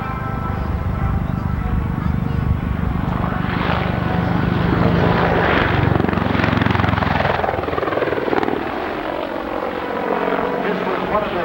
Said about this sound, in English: This was one of the frontline helicopters in the Persian Gulf.